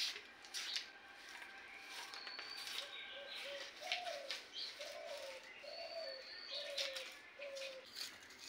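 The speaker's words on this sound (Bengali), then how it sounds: "এই দিনে এই পাখির ডাকটা অনেক ভালো লাগে তাই না?" A bird calls outdoors with a quiet, repeated run of soft cooing notes at a steady pace, heard against faint background sound.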